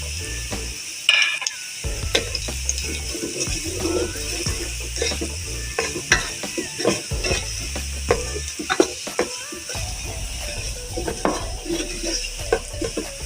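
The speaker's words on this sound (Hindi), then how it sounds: "मसाले डाल के इसको 1 मिनट भून लिया हमने।" Spices roast in a pan with garlic and ginger for a ridge gourd curry, a low sizzle under repeated scraping and clinking of a spoon stirring against the pan.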